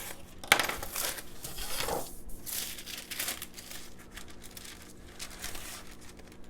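Wax paper crinkles and rustles as it is unrolled and handled in a luthier's workshop, with a sharp tear and soft crumpling at close range and no talking.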